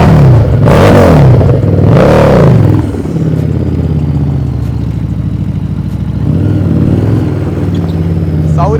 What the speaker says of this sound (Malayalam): സൗരഭ് ബ്രോ ശരിക്കും സൂപ്പർ ബൈക്ക് ഓടിക്കുമ്പോഴാണ് അതിന്റെ ആ കറക്റ്റ് ലുക്ക് വിഷ്വൽ കിട്ടുക